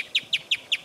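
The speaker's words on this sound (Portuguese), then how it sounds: "é o casaca de couro da lama." A casaca-de-couro-da-lama bird sings outdoors, four sharp, evenly spaced chirps in quick rhythmic succession, close and clear over a quiet background.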